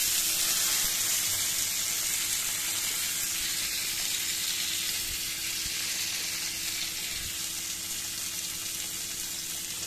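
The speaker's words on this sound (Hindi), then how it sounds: "कढ़ाई में तेल डाला है और प्याज ये लाल हो रही है। अब हम इसमें अपने चने डाल रहे हैं।" Chickpeas drop into hot oil with browning onions in a kadhai, giving a loud, continuous sizzle and frying hiss that holds steady throughout.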